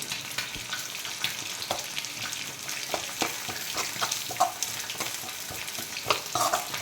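Chicken 65 frying in oil, a close continuous sizzle with crackling pops and occasional stirring scrapes throughout.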